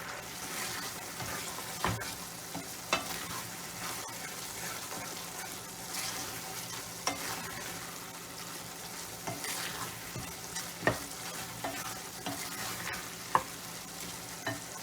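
A spoon stirs a thick grated coconut mixture for Jamaican grater cake as it reduces in a pot, with a steady sizzle and bubbling broken by repeated scraping knocks against the pot.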